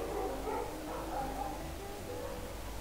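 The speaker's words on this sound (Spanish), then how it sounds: "están ladrando todos los perros" Several dogs bark and yip in the distance, overlapping in irregular bursts against a steady low background hum.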